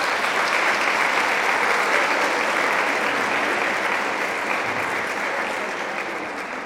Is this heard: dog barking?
no